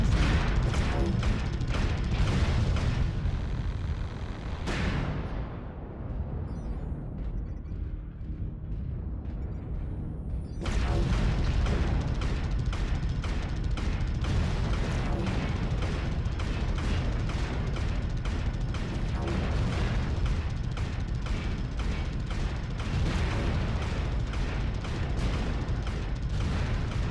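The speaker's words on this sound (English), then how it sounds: "Warning, incoming missile." Incoming missiles explode during mech combat in MechWarrior Online: a loud, dense, continuous roar of blasts and weapon fire, with a brief quieter lull partway through before the barrage resumes.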